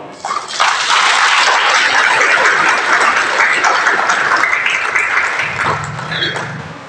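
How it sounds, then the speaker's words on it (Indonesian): Loud applause from an audience at an Indonesian church women's anniversary celebration in Timika, dense close clapping sustained for several seconds before easing off as a low hum enters near the end. "Sambil kita tepuk tangan dulu untuk semua perempuan."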